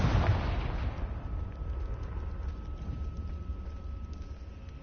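A Confringo explosion spell goes off in the Hogwarts Legacy video game, one loud blast at the start that fades into a long rumbling tail, with a faint steady hum under the decay.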